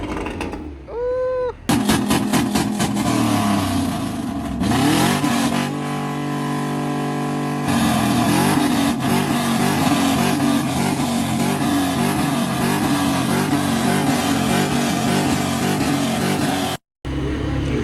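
Audi TTRS exhaust with an IE downpipe roars through loud revs and crackling pops, close and aggressive, with rising and falling engine pitch and a brief spoken exclamation near the start.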